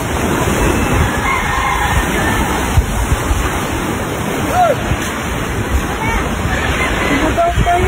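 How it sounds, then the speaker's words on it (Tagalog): Loud, continuous rush of heavy surf crashing nearby, with a rooster crowing faintly in the background and scattered voices. "Lakas ng alon, tingnan mo."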